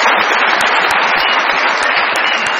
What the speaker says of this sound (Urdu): بہت ساری تالیاں میرے مہمانوں کے ستاروں کے لیے